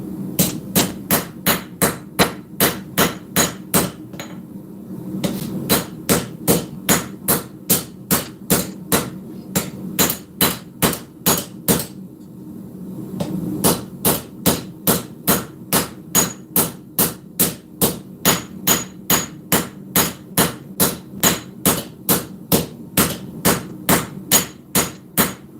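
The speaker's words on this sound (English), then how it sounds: "we're going to come in with a little bit more aggressive cross peen" Cross peen hammer forging a full integral drop point hunter knife: loud, sharp metallic strikes landing in a fast, steady rhythm, broken by two short pauses before resuming, with ringing blows close up and no voices.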